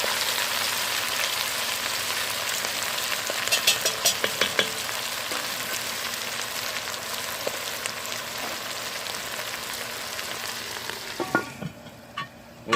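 Ingredients for a country pork breakfast sauté in a pan with a steady broadband sizzle, while a wooden spoon scrapes and knocks through the food at intervals; the frying fades near the end, leaving a few sharp spoon clacks.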